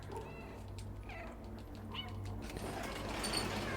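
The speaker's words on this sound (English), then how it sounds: "You can, like, barely hear the cat going meow." A cat meows a few times in the video game Stray, faint and short under steady game ambience, with no talking.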